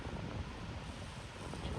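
Cool wind at Malankara Dam, a reservoir in Kerala, buffets the microphone with a continuous broadband rush, steady and close, with no clear talk over it.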